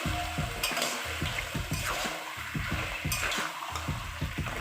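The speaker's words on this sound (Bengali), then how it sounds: "মশলাগুলো ভালো করে মিক্স করে নিব।" Spices are stirred and fried in a pan with taro greens and a rohu fish head, giving a continuous close sizzle broken by rhythmic scraping strokes of the spoon, with no talk.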